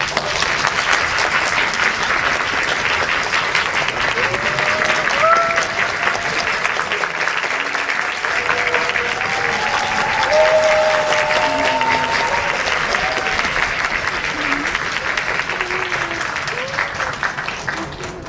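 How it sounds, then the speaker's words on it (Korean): Audience applause at a Megabox COEX cinema after a screening of the film Normal Family, a steady, dense clapping from a full house that holds for the whole stretch, with a few voices and whoops faintly mixed in. "큰 박수를 맞아주시면 시작하도록 하겠습니다."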